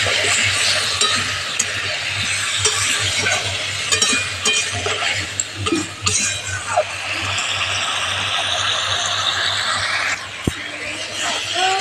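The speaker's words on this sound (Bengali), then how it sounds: "একটু জল দিয়ে দিচ্ছি।" A potato and flat bean curry sizzles and frying spits in a pan as water is poured in, with steady loud hiss, stirring and occasional clinks of a utensil throughout.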